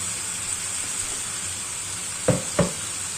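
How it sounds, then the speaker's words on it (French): Beef browning in a pan for bourguignon gives a steady, even sizzle throughout, with two brief clattering stirs near the end. "Là, on fait revenir la viande tranquillement"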